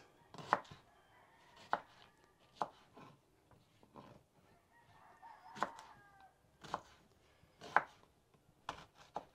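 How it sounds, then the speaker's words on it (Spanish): A knife cuts through an onion on a board in a ranch kitchen, giving sharp separate chops spaced about a second apart, while chickens and a crowing rooster sound faintly in the background. "Y por último la cebolla, miren, esta la voy a partir así por la mitad y así"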